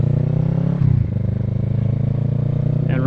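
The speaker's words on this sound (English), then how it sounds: "Releasing the clutch in a slow manner while giving a little bit of throttle allows everything to rev match." A motorcycle idles and revs as the clutch is slowly released with a little throttle, a close, loud, steady engine pulse with a brief lift in pitch partway through.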